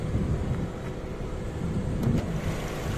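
A Mazda 3S engine idles with the hood open, giving a steady low rumbling hum that holds evenly throughout, close by and moderately loud.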